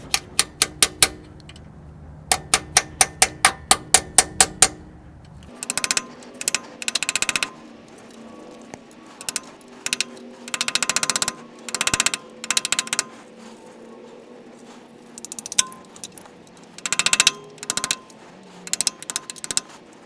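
A small 1/4 inch chisel struck with a hammer against a transmission filter seal on a GM 4L80E/4L85E, close and loud: first sharp evenly spaced metallic taps, then heavier irregular clusters of ringing blows, with no voices.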